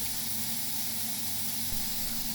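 Spray gun hissing compressed air from a compressor, a steady loud broadband rush with a faint underlying hum, unbroken from start to finish.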